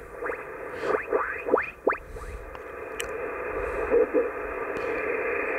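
A shortwave radio tuned to the 80 m amateur band in winter gives off hiss and static. Faint stations come through as sweeping whistles and chirps, with brief bursts of distant signals.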